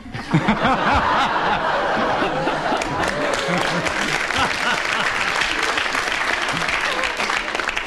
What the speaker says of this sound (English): Because the audience applauded, I feel I should give you a bonus point.